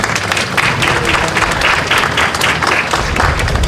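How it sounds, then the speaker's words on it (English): Sustained crowd applause at a Columbus Day celebration in West Haven, steady dense clapping from a large audience lasting the whole stretch without a break. "Would you give him a nice round of applause?"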